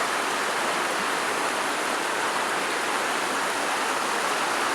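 Virgin River in The Narrows, swelled where Deep Creek joins it, rushing in a steady, even broadband hiss of flowing water close by, with no voices.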